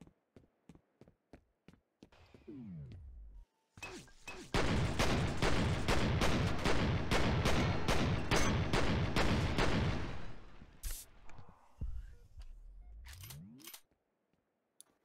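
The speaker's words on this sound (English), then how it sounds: "why don't you shoot people with a sniper rifle at point blank range while looking down the fucking scope?" Sniper rifle fire in the first-person shooter F.E.A.R.: a run of sharp, loud, rapid shots packed into a dense burst, with scattered single cracks before and after, all heard alone without talk.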